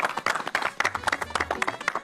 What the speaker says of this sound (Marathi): वा वा वा, जोरदार टाळ्या.